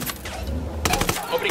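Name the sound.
gunfire from a video game, Ghost Recon Wildlands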